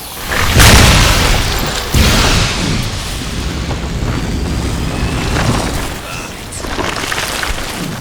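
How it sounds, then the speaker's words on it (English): Explosive Charge Magnum rounds burst against the ground in Shadow Warrior 2, a string of loud, booming blasts with a heavy rumbling tail, the biggest hits near the start and smaller thuds following through the rest. "the ammo is explosive, so you can just shoot at the ground right at something's feet"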